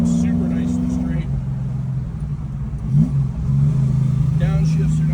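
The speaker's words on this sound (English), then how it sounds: "just a couple of seconds on the throttle and we got to get all over the brakes to get mowed down" A car engine revs on the throttle for a couple of seconds, rising in pitch, then drops as the driver brakes hard, with a quick shift and a renewed climb; someone talks over it from inside the car.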